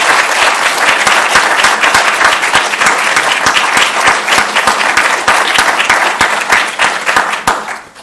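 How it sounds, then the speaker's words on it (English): An audience at a Kristallnacht community event at a Jewish center breaks into loud, dense applause for the guests, many hands clapping steadily for several seconds before fading out at the end. "Let's give them a round of applause"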